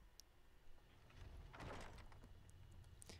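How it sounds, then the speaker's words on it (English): A door opens in Skyrim. A heavy creak and scrape swells in the middle, with a few light clicks and knocks around it, all fairly quiet over low ambient game background. "didn't mean to open that door"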